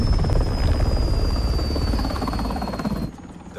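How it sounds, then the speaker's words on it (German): In Call of Duty: Modern Warfare, an allied aircraft approaches with a throbbing, rotor-like engine drone and a thin high whine. It stays loud and close, then cuts off abruptly near the end. "Verbündetes Flugzeug nähert sich vom Süden auf 180."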